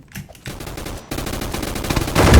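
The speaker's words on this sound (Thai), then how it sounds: "M60 LMG นั่นเองครับ" An M60 LMG light machine gun fires in the Roblox game Gunfight Arena, several rapid bursts of close, loud automatic shots that grow heavier and denser toward the end.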